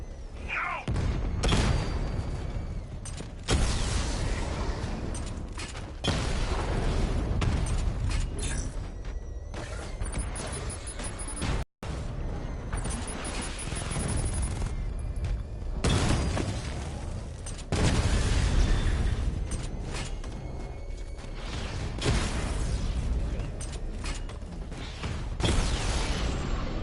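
Drone explosions in the Batman: Arkham Knight video game, a run of heavy booms and mechanical thuds lasting throughout, with one sharp gap partway through and little talk.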